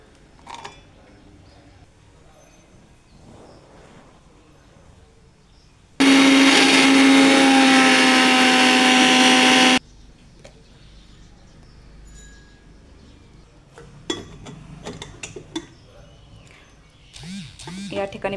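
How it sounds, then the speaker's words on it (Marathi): A mixer grinder blitzes chillies, ginger, garlic and cumin into a paste in one loud, steady whir lasting about four seconds, with speech before and after it. "आता हे मिक्सरमध्ये बारीक करून घेणार आहे, पेस्ट करून घ्यायची याची।"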